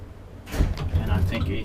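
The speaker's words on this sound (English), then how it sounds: "I like the doors here." The sliding doors of an old Valmet-Schlieren traction elevator roll open with a short, close rattle and rumble, partly mixed with speech nearby.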